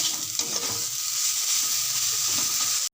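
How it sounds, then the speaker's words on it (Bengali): Bottle gourd peel frying dry in a pan, a steady close crackling sizzle with stirring scrapes running throughout the short stretch, cutting off abruptly at the end. "আরও একটু লাল লাল করে বেশ শুকনো শুকনো করে ভাজতে হবে"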